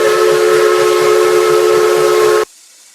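Loud, sustained American steam locomotive whistle from the RO-Scale Sandbox game, a rich chord-like blast held for over two seconds before cutting off abruptly.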